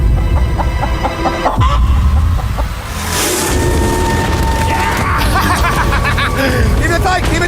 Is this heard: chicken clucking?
yes